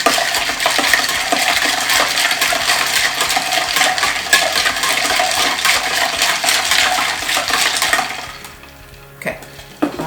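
A spoon stirs an Old Fashioned in a glass with rapid, continuous clinking and swirling of ice, close and bright, for about eight seconds before easing off into a few faint final taps.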